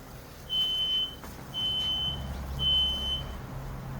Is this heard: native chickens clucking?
no